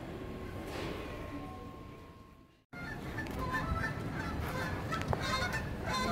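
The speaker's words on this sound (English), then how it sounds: "Look, there goes the geese." Geese honk repeatedly, fairly close by, amid busy background noise, with a brief drop to near silence partway through.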